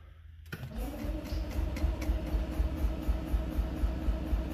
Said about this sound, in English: I'm gonna set this right here. Let's see if you can see this while I crank it over.